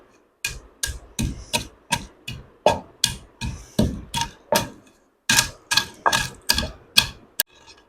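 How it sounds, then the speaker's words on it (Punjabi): Whole cinnamon, large and small cardamom and cloves are coarsely pounded in a steady series of hard, evenly spaced knocks, with a brief pause midway before the rhythm resumes. "ਇਹ ਆਪਣੇ ਮਸਾਲੇ ਦਰੜ ਹੋ ਗਏ"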